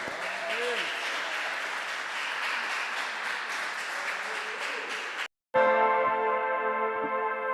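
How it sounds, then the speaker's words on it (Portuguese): A church congregation applauds during a worship service, a steady, dense wash of clapping that runs for about five seconds, breaks off abruptly, and gives way to sustained, held musical tones. "Dê um aplauso ao Senhor."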